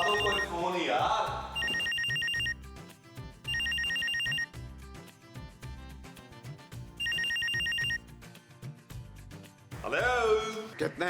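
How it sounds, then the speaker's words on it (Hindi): A telephone rings in three long bursts with pauses between them, over background music, with voices talking at the start and end. "कोई फोन यार।"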